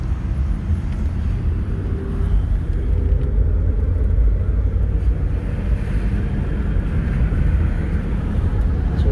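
A car drives along the road, its steady low rumble and road noise continuous throughout with some wind buffeting, and no talking.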